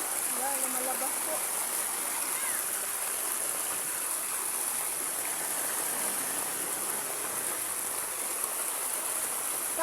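Floodwater surges up from below during Typhoon Carina in Metro Manila, a steady, dense rushing like a stream that fills the whole scene evenly and continuously, with a few faint voices underneath.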